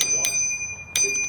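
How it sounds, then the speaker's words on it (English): Two bright metallic rings from the small bicycle bell on a VANPOWERS UrbanGlide-Pro e-bike, each a clear ding with a lingering tone, spaced about a second apart, close by. "Comes with a little bell."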